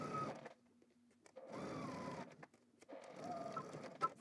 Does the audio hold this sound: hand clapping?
no